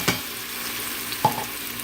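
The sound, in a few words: onion, garlic and ginger paste sizzling in hot oil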